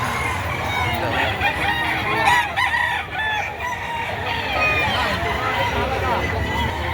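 Roosters crow repeatedly amid a busy Philippine livestock market where chickens, including six-month-old local banded fowl, are sold; the calls ring out loud and close over crowd chatter and people talking.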